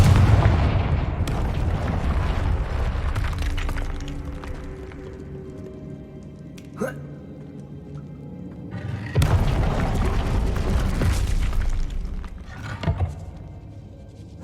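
Blasting Confringo curse explosions in Hogwarts Legacy: a heavy, booming blast near the start of the stretch, then a sharp crack and a second loud boom midway, with rumbling low-end tails and no speech.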